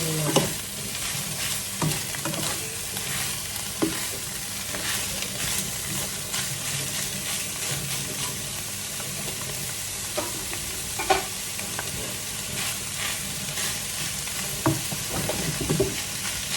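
Pork stir-fried in a pan, a continuous close sizzle broken by repeated scraping and clattering stirs at irregular intervals.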